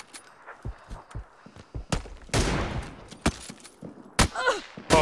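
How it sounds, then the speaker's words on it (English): Rapid bursts of gunfire in an Xbox shooter game, sharp close shots in irregular clusters with a few louder cracks, heard alone with no talk. "Oh, I'm getting shot by someone else."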